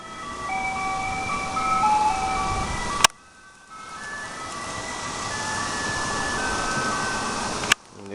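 An ice cream truck plays its chiming jingle as it drives off. The tune comes in loud, cuts out abruptly, then returns over steady road and engine noise, with a sharp click at each break.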